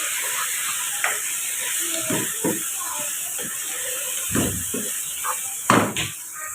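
Masala for chicken pulao being stirred in a frying pan, with a steady sizzle under scattered scraping and tapping of the spoon against the pan, a few louder clinks near the end.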